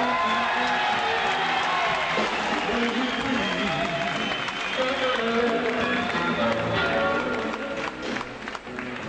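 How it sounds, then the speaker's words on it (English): A concert audience at a 1989 blues show applauds steadily with scattered cheers and whoops, loud and sustained, while voices carry over the clapping before it tapers off. "Let's give that young man a big round of applause."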